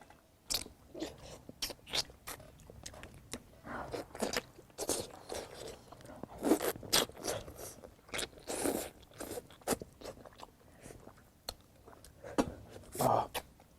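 Dry-pot duck being gnawed and eaten by hand, with irregular close crunching and biting bursts and chewing scattered across the clip, between spans of mouth noise and faint background.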